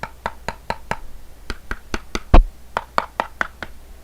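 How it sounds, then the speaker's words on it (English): Knuckle knocks on an empty mechanical keyboard case from a Pwnage Lunar New Year box with a centered USB-C port, a dozen sharp taps in steady rhythm, close and clear, with one heavier thud midway. "Let's give it a hollow sound test."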